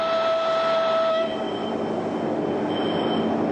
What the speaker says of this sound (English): This train, with its hidden missiles, capable of launching 30 warheads on the move.